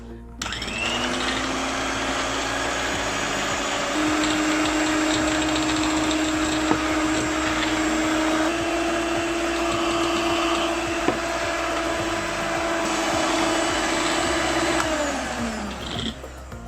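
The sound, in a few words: electric beater beating eggs and sugar for carrot dates cake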